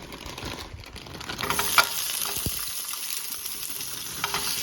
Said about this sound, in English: now I'm going to add in both my broccoli and my broccoli stir fry